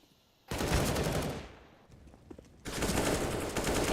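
Rapid automatic rifle fire from a Counter-Strike esports match, loud sustained bursts with a short lull, then another dense volley, with no talk over it.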